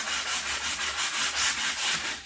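Soft wood being sanded by hand with coarse 80-grit sandpaper: a steady, close, rhythmic scratchy rubbing of repeated strokes with no voices.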